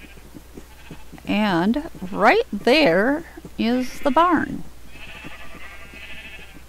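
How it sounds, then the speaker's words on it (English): Sheep bleat repeatedly in a Minecraft animal farm, several wavering cries in quick succession, loud and near, followed by a spoken line. "I am left to move these last of the sheep"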